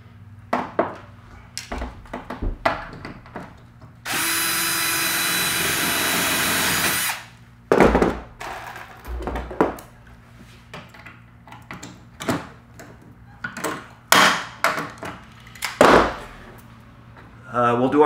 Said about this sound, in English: we're going to go ahead and put a 3/16 rivet where we had our tech screw here